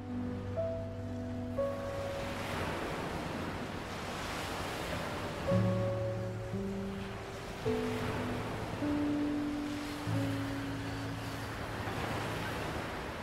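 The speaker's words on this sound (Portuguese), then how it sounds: "Na praia, Denise observa o mar" Sea waves roll in and break on a beach in steady, repeated surges, with wind rushing throughout, beneath a sustained soundtrack of soft musical tones.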